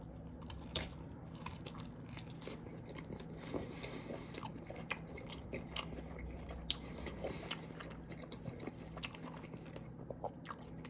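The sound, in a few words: biting and chewing a cheese quesadilla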